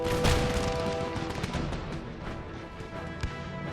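A dense barrage of cannon and musket fire in Empire: Total War, with booming shots and crackling volleys overlapping steadily as a battle plays out.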